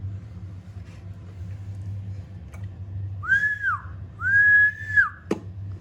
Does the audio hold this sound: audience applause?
no